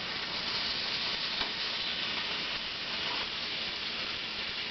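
Turkey bacon nearly done in a frying pan, a constant, even sizzle and spatter throughout at moderate level with no break and no speech.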